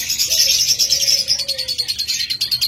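Caged pet birds such as lovebirds, budgerigars and cockatiels chirp at a bird sale, a dense flurry of high, rapid tweets close by with a faint low tone underneath.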